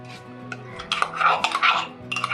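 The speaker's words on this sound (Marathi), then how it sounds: "दही छान असं फेटून घेऊ" A utensil scrapes and clinks around a bowl of homemade yogurt, building into a brisk whisking rhythm with light metallic taps.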